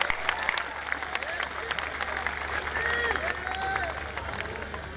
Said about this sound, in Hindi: एक बार तालियों के साथ आप उनका स्वागत करिए।